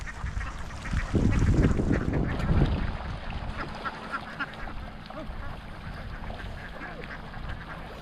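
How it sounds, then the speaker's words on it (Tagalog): Young ducks being herded, a flock quacking and honking together, loudest in a dense burst early on, then continuing as scattered calls at a moderate distance. "at yun po yung mga mga batang mga itik"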